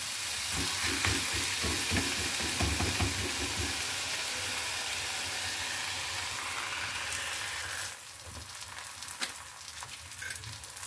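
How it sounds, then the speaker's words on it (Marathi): Dhapate flatbread sizzling on a hot tava griddle, a steady, fairly loud hiss of frying with soft stirring-like clatter early on, easing slightly toward the end with a few faint crackles. "तवा गरम झालेले तर आपण यामध्ये धपाटे घालून घेणार आहे"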